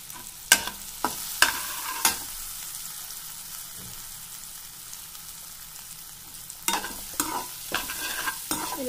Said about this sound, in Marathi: याला छान प्रकारे असे हलवून घ्यायचं आहे.